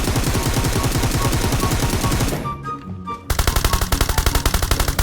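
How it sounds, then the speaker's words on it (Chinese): Honey Badger assault rifle hip-fire in the video game Peacekeeper Elite: loud, rapid full-auto bursts of gunfire crackle up close, break off briefly in a short lull, then resume in another rapid stream of shots. "依旧是蜜獾腰射更集中一点啊！"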